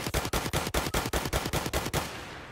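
Video game gunfire: a fast, evenly spaced burst of about a dozen loud, close shots lasting around two seconds, stopping abruptly and leaving a faint hiss, with no talking.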